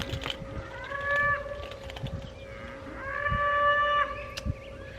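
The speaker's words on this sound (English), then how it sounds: "my cows are out there hollering" Cows and big calves holler outdoors, two drawn-out moos with rising, wavering tones, mid-distance over faint background noise and a few clicks, with no talking.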